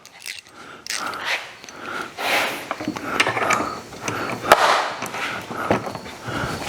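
A worn quarter-inch ratchet, barely catching anymore, turns a bolt on an Onan 4000 watt generator, giving irregular close clicks and metallic scrapes in short bursts with no talk.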